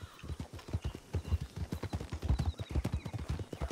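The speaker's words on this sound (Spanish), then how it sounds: "Que se me ha cruzado un caballo." Horse hooves clip-clop in a quick, steady rhythm in the western video game RedM, close and distinct against quiet surroundings.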